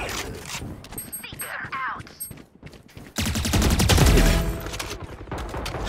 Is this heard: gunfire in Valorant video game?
yes